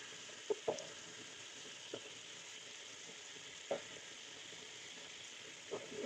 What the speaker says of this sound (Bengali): মিশিয়ে নিচ্ছি নুনটা।